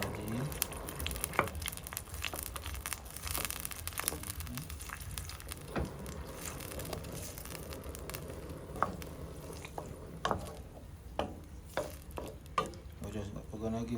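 Onion, tomato, pepper, sweet pepper and garlic frying in a pan for a Jamaican saltfish run down, a steady close sizzle with stirring scrapes and small clicks throughout, no talking.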